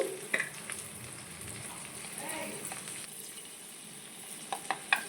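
Fenugreek seeds sizzling in boiling Parachute coconut oil, a soft steady frying crackle with a few sharper pops, fairly faint, with a voice speaking at times.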